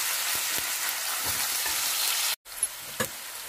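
Onions frying in a pan for ridge gourd palya give a steady, close hiss of sizzling oil. It cuts out briefly, then returns with a couple of soft clinks.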